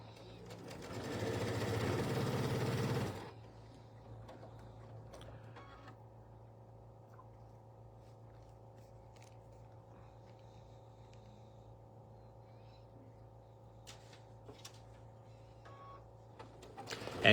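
Sewing machine stitching a bunny's ear onto a Riley Blake tabletop banner, a loud dense run for about three seconds, then a steady low motor hum fades into quiet background.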